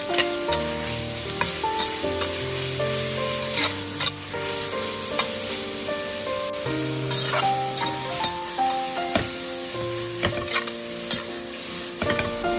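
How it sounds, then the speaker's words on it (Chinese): Chopped celery stir-fried fast in a hot wok sizzles loudly and steadily, with repeated scraping and clacking of the spatula against the pan over a background of music. "然后把刚才切好的芹菜也放入锅中，再快速的翻炒，将芹菜炒至断生"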